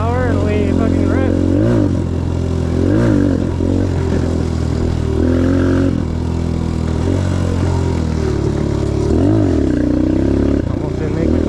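A 2022 Suzuki DRZ125L motorcycle on a test ride after some adjustments. The loud, close engine revs up repeatedly through rising and falling pitch sweeps, with wind rush and clatter throughout.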